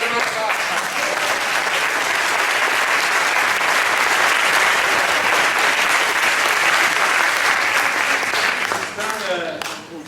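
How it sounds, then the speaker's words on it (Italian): Sustained, loud applause from an audience at an Italian-language gathering, dense and steady clapping that holds for several seconds before tapering off near the end. "E un applauso"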